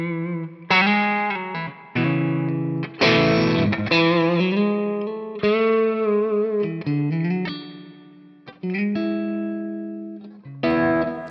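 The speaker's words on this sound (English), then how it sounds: "Yeah, nice spring reverb." Electric guitar chords and single notes played with pauses between phrases through a Line 6 HX Stomp spring reverb, each ringing out with a splashy, wobbly tail; close and fairly loud, no voices.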